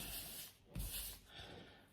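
Quiet, steady rasping of sanding pads, starting with 1800 grit, worked over a surface to smooth it, a soft continuous hiss with a slight bump midway.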